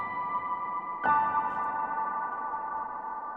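A sustained acoustic piano chord pattern with heavy reverb, for an ambient beat, rings steadily, then a fresh struck note blooms into a long, washed-out tail.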